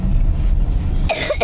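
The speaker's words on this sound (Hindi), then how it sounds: "आज आपको बार बार खांसी का सामना करना पड़ रहा है" A sick boy with a heavy chest cough coughs near the microphone, a short rough burst near the end after low rumbling background noise.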